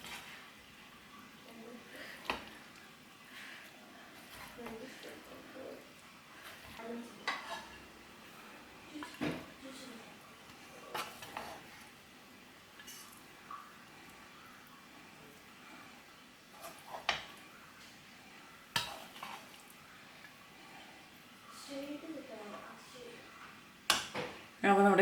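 Chilli chicken rice being mixed in a pan, with scattered light clinks and scrapes of a utensil against metal, quiet and intermittent, alongside a soft voice in the background.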